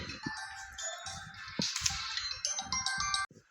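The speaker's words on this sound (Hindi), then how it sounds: "फोन आ गया था जिसके कारण डिस्टर्ब हो गया" A mobile phone ringtone plays a bright, busy electronic melody with repeating chiming notes for about three seconds, loud and close, then cuts off abruptly.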